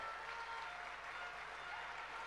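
An audience at a political rally in Puglia applauds with dense, steady clapping that fills the whole stretch at an even level, with no pauses.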